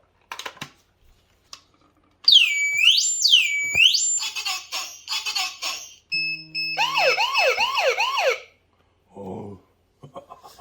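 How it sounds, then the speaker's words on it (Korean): A smoke detector triggers a warning-light alarm: electronic tones sweep up and down like a siren, interrupted by beeps and a steady two-tone hum, followed by brief clicking. "연기 감지기를 켰을 때 경광등이 같이 이렇게 알람이 울리는 걸 보실 수 있고요"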